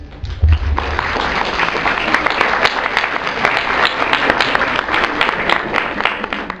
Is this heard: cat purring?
no